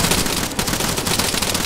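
Dense automatic gunfire in the video game Arma 3, a loud continuous burst of rapid shots rattling without pause, with no talk over it.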